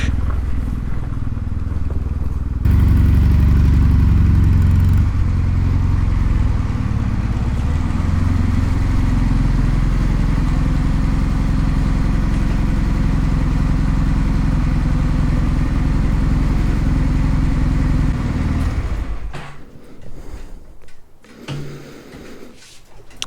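Motorcycle engine idling steadily in a workshop during carburetor synchronization, a loud, even throb that holds for most of the stretch before the engine cuts and only faint clatter remains.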